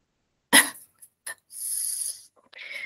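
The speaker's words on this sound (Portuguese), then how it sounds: "agora tô chorando de tanto tossir" A sharp cough bursts out, followed by a few smaller coughs and throat noises, then a long raspy exhale and a brief wheezy breath.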